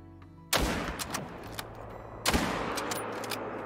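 Two loud, sharp rifle shots ring out about two seconds apart in the Call of the Wild hunting game, each followed by a fading echo as a red deer is hunted.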